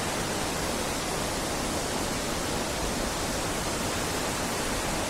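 Turkey's longest waterfall in Erzurum roars in a steady, dense broadband rush that stays loud and unbroken throughout, with no voices over it.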